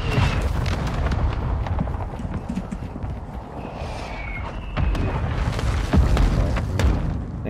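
Call of Duty Modern Warfare II gunfight in which a sticky grenade goes off with deep booms amid scattered gunfire, thuds and clatter. The sound is dense and fairly loud, with faint voices in the mix.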